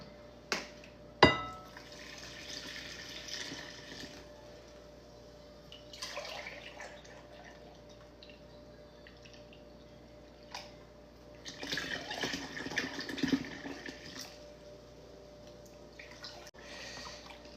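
Three cups of milk poured for a banana pudding, faint liquid splashing and trickling in a few separate bursts against a quiet room, with a couple of sharp small clicks early on.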